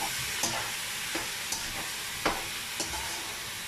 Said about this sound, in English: Give that a big old stir.